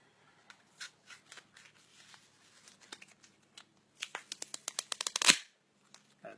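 A playing card torn apart by hand, its crisp ripping crackles building into a rapid burst of sharp tearing clicks that ends in one loud snap, heard close with no talk.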